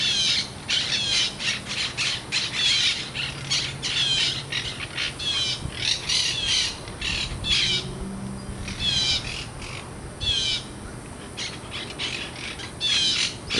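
Wild parrots squawk constantly in harsh, overlapping calls, loud and near, a dense chattering flock with no talking.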